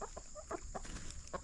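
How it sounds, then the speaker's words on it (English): Chickens cluck close by in short repeated bursts over a steady background hum, with guinea fowl also present among the flock. "I'm surrounded by chickens."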